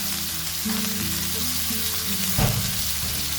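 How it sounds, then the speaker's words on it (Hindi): Mutton frying with ginger, garlic and salt in a pot over low flame, a dense continuous sizzle close up with a brief stir or clatter near the end, no voices. "अदरक लहसुन के साथ इसको तकरीबन 1 से 2 मिनट हम ब्राउन करेंगे"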